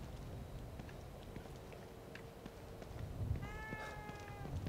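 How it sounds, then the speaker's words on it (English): A cat meows in the horror video game The Evil Within 2, one clear, drawn-out meow near the end over low, rumbling game ambience. "Can I pet the cat now?"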